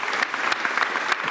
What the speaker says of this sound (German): ja, kann man gerne klatschen, auf jeden Fall